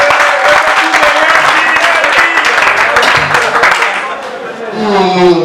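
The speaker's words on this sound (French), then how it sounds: "Est-ce qu'on peut encore acclamer?" Applause and cheering from a live audience, dense and steady throughout, easing slightly near the end as voices rise over it.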